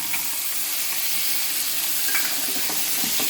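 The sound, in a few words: soaked green peas frying in a pan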